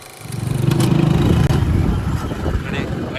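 A motorcycle engine runs steadily while riding along with several people on the way to work, loud and close, rising slightly then holding a continuous rumble.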